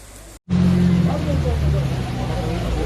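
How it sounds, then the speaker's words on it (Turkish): Cars pushing through deep floodwater on submerged streets during heavy rain, a steady loud engine drone and water rush close by, continuous after a brief gap at the start. "Sürücüler, bir kısmı suya gömüle araçlarıyla ilerlemekte güçlük çekti."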